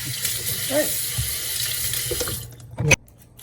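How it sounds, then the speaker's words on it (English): Tap water runs steadily into a kitchen sink while potatoes are prepared for a vegan cabbage potato soup, a continuous close splashing that cuts off abruptly near the end after a brief clatter. "turn the water on"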